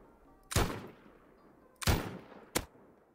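Player's gun firing in the video game Rust: three sharp, loud gunshots, the first two spaced over a second apart with short reverberant tails and the third coming quicker and briefer.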